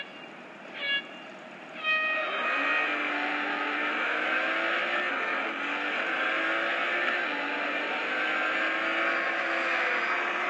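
Car engine sound from a racing video game played on a Motorola Moto Maxx XT 1225 phone, heard from the in-car view: a steady, sustained engine drone with gear-shift pitch changes, preceded by two short bumps.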